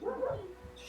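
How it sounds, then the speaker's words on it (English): A brief, faint bark-like call from a hawk in a fantasy role-playing session, a short yelp with a whimpering tail, heard once and quietly. "It looks like a dog barking."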